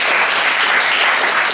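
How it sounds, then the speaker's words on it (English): Loud, steady applause from an audience at a political candidate event for a Cook County Commissioner race, a dense continuous clatter of many clapping hands filling the whole moment. "yes, let's applaud"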